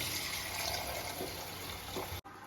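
Water for rosemary water pours in a continuous, even splashing stream close by, then cuts off abruptly just before the end.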